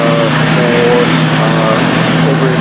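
A CP-140 Aurora maritime patrol aircraft arriving at the 2010 Canadian International Air Show produces a loud, steady propeller-engine drone with a constant whine throughout.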